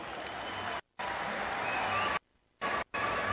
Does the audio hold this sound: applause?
yes